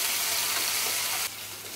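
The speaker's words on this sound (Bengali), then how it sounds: "এটা এখন আমি ভেজে নিব।" Ginger garlic paste frying in a pan, a loud continuous sizzle that drops abruptly to a quieter hiss near the end.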